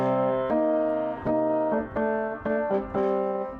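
Piano riff from a song played over a C bass, rich sustained chords struck in a steady repeating pattern, about seven hits, clear and alone.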